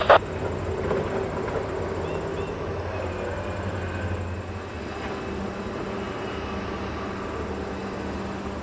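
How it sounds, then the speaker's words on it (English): Freight train number 18N carrying new automobiles and trucks, rolling slowly downhill on a mountain main line toward Newark, New Jersey, a steady low rumble at moderate distance with no talking. "train 18N slowly moves down the mountain on track 2 with new automobiles and trucks headed to Newark, New Jersey"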